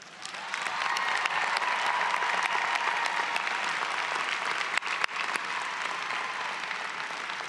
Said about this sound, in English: help me welcome this new cohort of North Carolina educators with a big round of applause